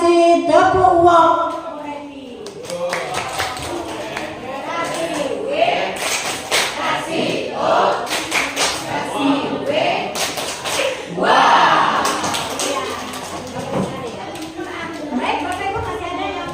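A group of teachers at a school workshop session gives a round of clapping, heard in scattered bursts of taps and thumps beneath someone speaking.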